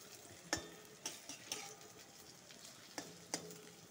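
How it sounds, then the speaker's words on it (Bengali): Chops frying in hot oil until reddish on each side: a soft, steady sizzle with a few sharp, isolated clicks and spatters, close by, with no talking. "এক পিঠ হয়ে গেছে, একটু লাল লাল করে ভেজে নিব।"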